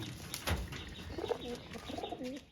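Pigeons at a racing-pigeon keeper's home give soft, low coos in a few short phrases, faint against quiet background noise with a brief rustle near the start.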